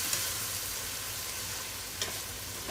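Curry paste for a green mustard curry with beef sizzles and fries in hot oil in a large pot, a steady close crackle with a couple of sharper spatters and no talking.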